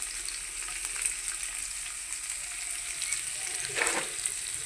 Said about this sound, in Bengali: এই যে কুচিয়ে রেখেছিলাম পেঁয়াজ সেই পেঁয়াজগুলো দিয়ে দিচ্ছি আর এই যে রসুন করে থেতো করে রেখেছি সেই রসুনগুলো দিয়ে দিলাম